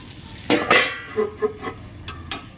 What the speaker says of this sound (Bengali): ঢেকে রেখে দিয়েছিলাম একটু নাড়িয়ে দেবো আর একটু ঢেকে দেবো